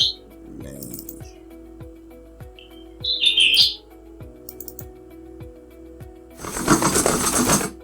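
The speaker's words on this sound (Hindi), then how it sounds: "पंछी का जहाँ पर भी साउंड इफेक्ट है उसको ऐड करते हैं।" A cartoon bird-chirp sound effect gives a short bright twitter among regular mechanical ticking, ending with a louder burst of noise.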